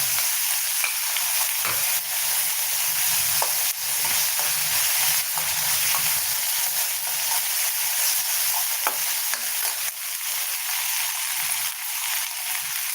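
Curry leaves and ginger-garlic paste sizzle and spatter steadily in a hot pan, a continuous close frying hiss with occasional stirring scrapes, no voices.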